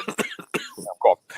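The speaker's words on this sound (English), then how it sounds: "Now we're all coughing." A few sharp coughs and a throat clear cut between snatches of conversation among pregame sports show hosts, close and loud in short bursts.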